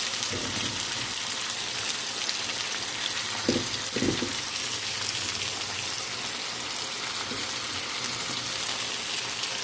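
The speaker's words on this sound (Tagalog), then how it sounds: "Buhusan ng tubig. Kaunting tubig." Water poured into a pot of eggplant and dried fish for ginataang talong, a steady hissing, sizzling wash with a couple of brief splashy bursts near the start, continuous and fairly close with no talking.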